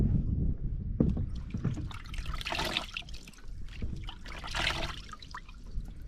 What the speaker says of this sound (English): It's time for a shower.